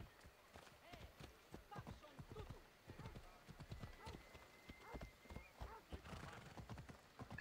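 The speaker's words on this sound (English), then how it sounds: "Wow, there's a lot of horses here." Many horses clip-clop at a steady, moderate pace in a video game, hooves sounding close with a brief whinny, under a man's running speech.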